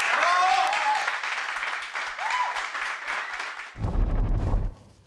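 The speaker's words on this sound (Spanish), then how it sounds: "Bravo, bravo, le aplaudían" Audience applause and cheering during a Mexican news program segment, a dense broadband clapping wash with voices mixed in, giving way near the end to a lower rumbling burst before fading.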